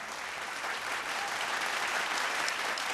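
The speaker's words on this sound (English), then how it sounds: "A massive round of applause, please, for PNG Air, our official airline carrier." An audience at a vocal competition show applauds sponsor PNG Air, the official airline carrier, in a continuous, even round of clapping from a crowd, heard alone without talk.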